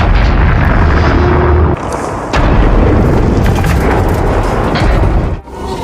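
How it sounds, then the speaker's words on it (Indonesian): Two cars hit a mine in a film scene, and loud booming explosions with rumbling blasts and sharp bursts follow in quick succession, close and dense. "kedua mobil mengenai anjing pemberontak hingga meledak dan terbolak"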